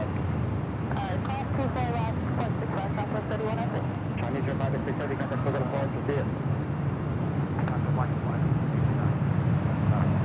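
Airliner bound for Seoul taking off at LAX, a broad distant roar that swells slightly toward the end, heard under talking and steady wind buffeting.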